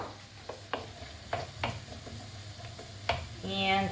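Onions soften in a pan of shrimp broth for shrimp saganaki, a low sizzle under repeated scrapes and taps of a spoon stirring, with a brief sharper sizzle at the end.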